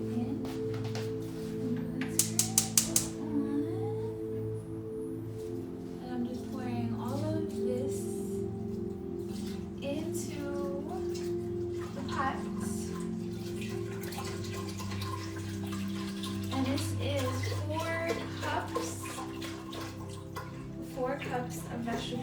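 Vegetable broth pours into a pan of rice, giving a continuous liquid splashing and trickling over a steady stovetop hum, with speech in between.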